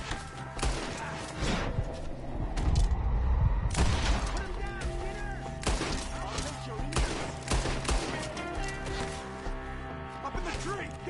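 A video game shootout in Reipas Dementtinen Reiska fills the scene with repeated loud gunshots and bursts of fire, sharp cracks spaced irregularly, with shouting voices under and between the shots.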